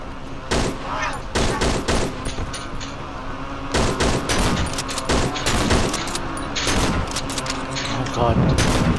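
Shotgun blasts in the horror game Cry of Fear, fired as a string of loud, sharp booms at irregular intervals across the clip, with a voice talking over the shots.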